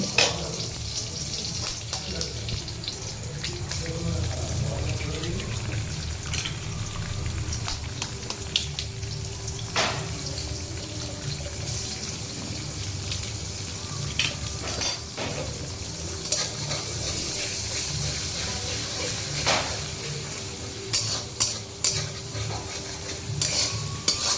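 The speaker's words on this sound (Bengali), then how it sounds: "এবার আমরা এর মধ্যে দিয়ে দেবো ডিম" Egg fries with chira pulao (flattened rice pilaf) in a pan, a continuous soft sizzle with frequent stirring scrapes and occasional light clinks, close and steady with no talking.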